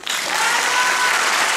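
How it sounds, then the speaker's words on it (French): Loud, dense applause from a fashion show audience bursts in at once and holds steady for a second and a half. "On applaudit très fort"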